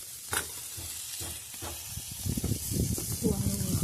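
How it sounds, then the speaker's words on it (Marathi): Fish frying in oil in a pan on a wood-fired stove, a steady close sizzle and hiss with scraping stirs and brief clatters, a voice speaking over it. "जरासं तेल घालून घेतलं म्हणजे मासे भाजतं"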